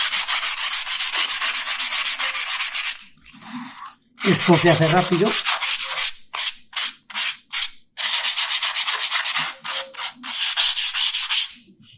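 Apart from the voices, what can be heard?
sandpaper sanding stone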